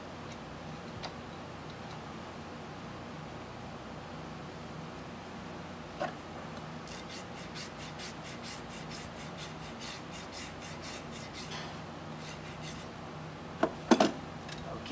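A farrier rasps a horse's hoof while trimming it before shoeing, making a run of quick, rhythmic scraping strokes that sound fairly faint and close, with a few louder knocks near the end.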